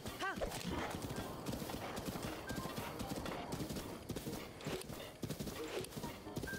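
A horse gallops in The Legend of Zelda: Breath of the Wild, its hooves clip-clopping in a rapid, steady rhythm, with a brief whinny near the start, under faint voices.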